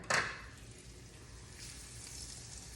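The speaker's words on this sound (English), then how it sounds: "we got the pan good and hot, so now we're gonna drop the ye old steak in there" A large farm-raised steak dropped into a very hot pan of beef tallow, with a brief loud hit at the start and then a steady, moderate sear sizzle throughout.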